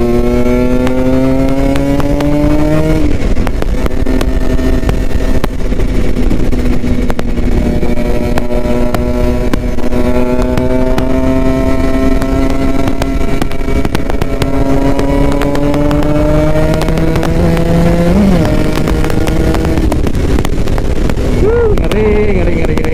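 Kawasaki Ninja RR motorcycle engine ridden close up through dense traffic, loud and continuous, its pitch climbing and dropping as the throttle opens and eases, with steady wind rush over it.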